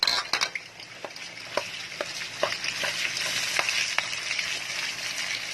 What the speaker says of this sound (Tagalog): So, ilalagyan natin ng ating bagoong.